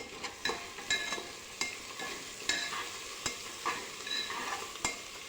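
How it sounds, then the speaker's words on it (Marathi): Spices sautéing in oil in a pan for Maharashtrian masale bhat, sizzling softly while a spoon stirs them, giving repeated light scraping taps every half second or so over the hiss, with no voices. "हे सर्व मसाले परतून घेऊ।"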